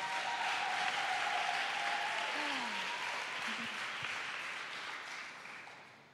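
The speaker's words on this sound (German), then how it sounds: "gebt ihr mal einen Applaus." Audience applause at a church testimony event, a steady broadband wash of clapping that holds at a fairly even level throughout and tapers slightly toward the end.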